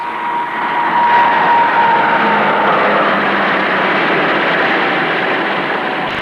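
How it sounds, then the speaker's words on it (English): A Hawker Siddeley Argosy freighter aircraft flies in, a loud, steady engine drone that swells slightly and holds for several seconds with no voices over it. "They're flown in by Hawker Siddeley Argosy freighters."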